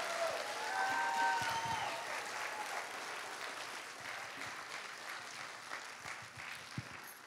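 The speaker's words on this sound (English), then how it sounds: "how about another round of applause for our fifth grade orchestra?" Sustained audience applause for a fifth grade orchestra at a school spring orchestra concert. Dense clapping from a crowd fills the room, fairly distant and steady, then slowly tapers.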